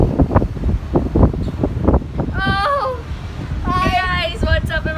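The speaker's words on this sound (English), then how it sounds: "There's a lot of wind and I can barely stand it." Strong gusts of storm wind in Karachi batter the microphone in rough bursts, with a person talking close by over the blustery noise.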